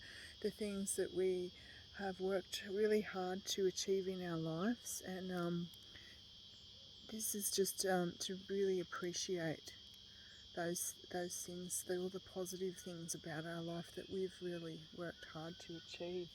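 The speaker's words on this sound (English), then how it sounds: "Hear the little cicadas there singing." Cicadas buzz steadily in the background, a constant high shrill drone beneath someone speaking calmly throughout.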